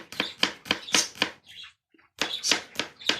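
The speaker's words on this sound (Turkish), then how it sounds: "Şu anda sarımsağını doğruyorum." Garlic being chopped by hand with a knife on a cutting board for a meatball mix: quick, crisp, evenly spaced strikes close up, a brief pause in the middle, then the same rhythm resuming.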